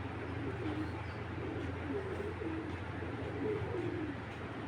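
An imported racing pigeon coos in low, soft, repeated warbles that sit faintly under a constant background hum.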